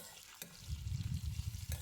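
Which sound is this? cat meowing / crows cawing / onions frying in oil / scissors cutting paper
onions frying in oil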